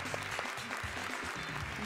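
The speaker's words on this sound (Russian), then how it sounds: "И вот аплодисменты." Theatre audience applause after a musical performance, a dense, continuous roar of many hands that stays steady and loud throughout.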